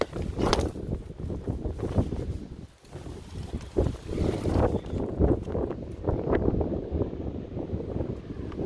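Strong gusty wind buffets the microphone on a hiking trail among rocks, a continuous rough rumble with shifting gusts and no talking.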